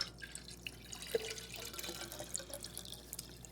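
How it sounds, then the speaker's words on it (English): Water running into a one-gallon fermenter while making maple wine, heard as a light, uneven trickle with scattered close drips and splashes throughout. "More water! Yes, more water. You can just dump it all in."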